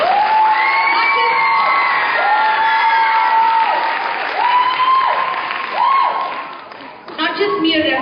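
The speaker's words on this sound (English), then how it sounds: "Give a big round of applause." An audience at a classical Indian dance debut recital breaks into loud applause with cheers and whoops, while long sung or sustained tones sound over the clapping and a voice cuts in near the end.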